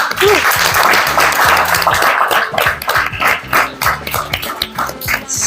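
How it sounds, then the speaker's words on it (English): A crowd claps and cheers in sustained applause, loud and dense throughout, with some scattered shouts and a dog-like bark mixed in. "give yourselves a huge round of applause"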